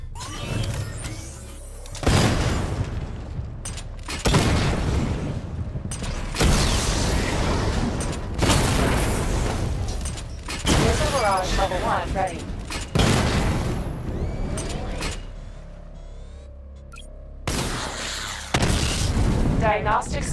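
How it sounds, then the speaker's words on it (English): Batman Arkham Knight missile barrage from the Batmobile weapon test: a series of loud booming explosions in separate bursts, each with a crackling tail, separated by brief lulls, with a voice speaking between some of the blasts. "Destroy targets to charge up weapon energy and activate missile barrage."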